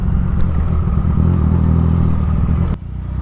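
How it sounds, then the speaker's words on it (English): A Suzuki Bandit superbike's engine drones loud and close in a rough, steady low rumble that holds for about three seconds and then drops off sharply. "Suzuki Bandit, see?"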